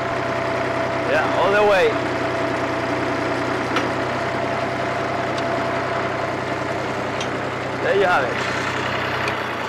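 A tractor engine runs steadily at close range while its PTO-driven auger digs into clay, with the droning continuing under short bursts of speech.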